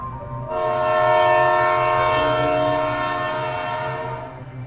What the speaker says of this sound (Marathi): तिच्या समोरून एक भली मोठी ट्रेन येत होती